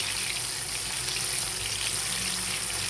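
Chopped tomatoes hit hot oil and are gently stirred, giving a loud, even, continuous sizzling hiss with no distinct breaks and no talking.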